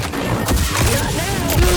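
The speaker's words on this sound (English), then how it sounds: "Laser shooting." Rapid laser blaster fire in Star Wars Jedi: Survivor on Jedha, a dense burst of shots over a low rumbling game mix, with a brief rising whine near the end.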